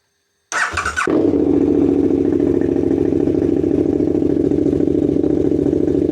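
A motorcycle starts with a brief squealing crank, then catches and settles into a loud, steady idle that continues close by.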